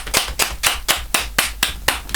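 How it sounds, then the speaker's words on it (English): Hands clap in a steady, even rhythm, with about nine sharp close claps for a music group on a talk show, and no talking over them. "let me give them a big round of applause"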